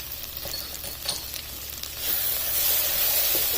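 Vegetables and chopped green chilli sizzle in a pan over a medium-high flame, with a steady close frying hiss and faint stirring scrapes that swell louder partway through.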